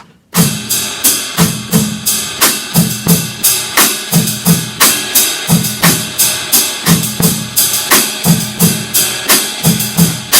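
Full drum kit rock beat with kick, snare and steady cymbal strokes in a repeating pattern, loud and close, played alone at a steady tempo with no voices.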